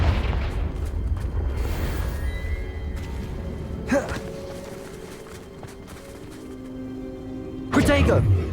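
Spell blasts from Hogwarts Legacy's Confringo burst out in a few short, loud booms scattered over rumbling combat noise, with a voice speaking between the hits.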